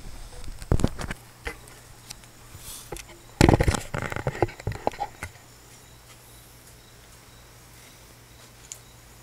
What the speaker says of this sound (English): I'll do one more round on the target on the right.